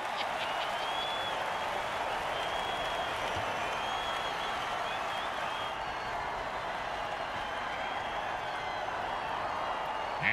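Crowd cheering in the Mutant Football League video game, a loud, continuous roar of applause and crowd noise filling the whole stretch, with a little clapping on top.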